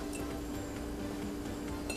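Steady clinking of a utensil against a bowl as dhokla batter with yogurt, lemon juice, ginger and green chili is stirred, close and continuous with a soft wet undertone.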